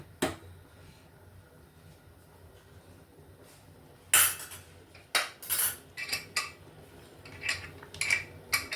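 A metal lid is fitted onto a pressure cooker of tomato rice, with a single clank followed by a burst of rattling and clinking as it settles and locks, close by in a quiet kitchen.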